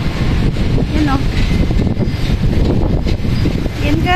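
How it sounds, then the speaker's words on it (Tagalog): Strong wind blows at an open outdoor viewpoint, a loud steady rush buffeting the microphone for the whole stretch, with faint voices in the background. "Napakalakas ng hangin dito."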